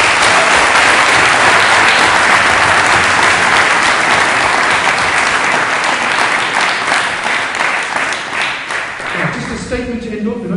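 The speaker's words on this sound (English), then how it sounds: "A round of applause for our panel." Sustained loud applause from an audience for a youth education debate panel, dense clapping filling the room nearly throughout before tapering off at the end.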